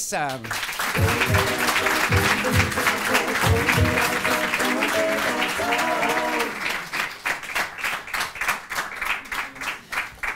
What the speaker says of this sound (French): Je vous demande d'applaudir Monsieur Charles Nemes.